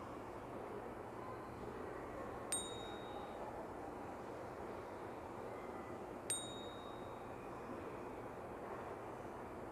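Bell sound effect number 1 from a mobile editing app's SFX library: two clean, high dings about four seconds apart, each fading quickly over a constant low background noise.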